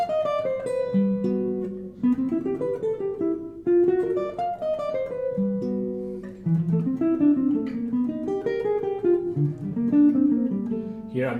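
Solo jazz guitar plays an altered-scale lick over a tune's changes: a clean, close single-note line of phrased runs, with brief gaps around the second and sixth seconds before the line continues.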